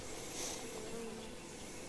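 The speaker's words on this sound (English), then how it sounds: "look at all them bees. That is a good sized swarm." Steady, dense buzzing of a honey bee swarm at close range, a continuous droning hum with no pauses.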